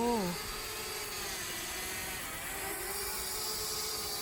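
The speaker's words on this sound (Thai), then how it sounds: "บินโดรนหัดบินโดรนแล้วนะ" A small drone flying outdoors near a house while a beginner learns to pilot it, a steady high whirring buzz that starts with a brief rising whine and holds at a moderate distance.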